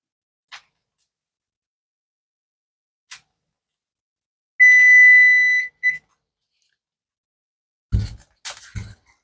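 A kitchen timer goes off after canning peach jelly and salsa: one sustained electronic beep, then a short second beep, with scattered clicks before and handling knocks and thumps afterward.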